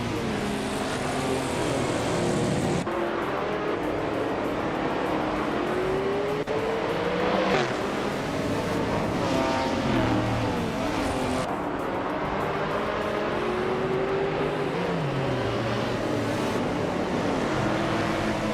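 Race cars, a 1971 Nissan Skyline 2000 GTR among them, roar steadily in a racing game. Engines rise and fall through gear changes, with a car passing by and a brief tire squeal near the end.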